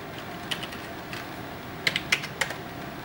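An enrollment key is tapped out on a computer keyboard while logging into a Moodle course, a handful of light, sharp keystrokes, scattered at first and then clustered in a quick run, close and alone.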